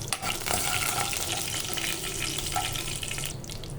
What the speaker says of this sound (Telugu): మినప్పప్పు, శనగపప్పు, పోపు అయితే బ్రౌన్ కలర్ వచ్చేంత వరకు వేయించుకోవాలి.